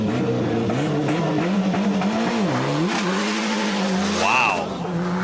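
Ford Sierra Cosworth rally car launching hard, engine revving up through rising and falling pitch with tires squealing, loud and close, ending on a sharp high squeal.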